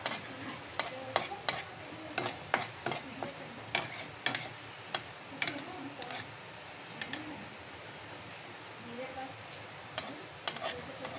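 Whole spices crackle in hot oil and ghee for an egg korma, stirred with a utensil that taps the pan in scattered sharp clicks, faint sizzling underneath and a voice talking over it.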